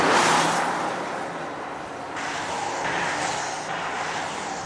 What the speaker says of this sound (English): We're going to see how quickly the car reaches 100 kilometers per hour from a standing start.